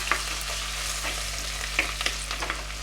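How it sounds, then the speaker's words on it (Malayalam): Crushed ginger and garlic frying in hot coconut oil in a pan, a continuous close sizzle with a few scattered stirring scrapes, no voices. "ഇനി ആദ്യം നമുക്ക് ഇഞ്ചിയും വെളുത്തുള്ളിയും ചതച്ച് വെച്ചിട്ട് അത് ആഡ് ചെയ്ത് കൊടുക്കാം. അതൊന്ന് ഇളക്കി കൊടുക്കാം കേട്ടോ."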